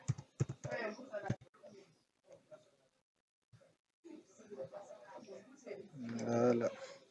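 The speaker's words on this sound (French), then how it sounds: "je tape le mot de passe." A password being typed on a computer keyboard, a brief quick burst of clicking keystrokes at the start, followed by quiet and then a person speaking.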